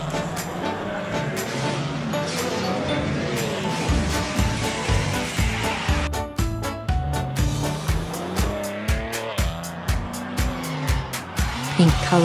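Toy-like mini cars race around a colorful pond in a children's video game, their engines and skids running continuously beneath a bouncy musical soundtrack, with brief tire squeals.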